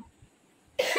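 A single short, sharp cough at close range near the end, after a near-silent pause.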